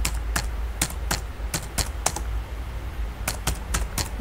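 Rapid, irregular clicking of keys on a computer keyboard as Python code for a binary search is typed, close and crisp with short pauses between bursts and no talking.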